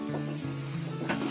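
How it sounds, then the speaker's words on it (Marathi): A thick mixture is stirred steadily in a pan on a gas stove at medium flame, kept moving so it won't stick or burn; soft scraping and a light sizzle run over a steady low hum. "आता आपण त्याच्यावर जास्त लक्ष द्यायचं, ढवळत राहायचं, सोडायचं नाही."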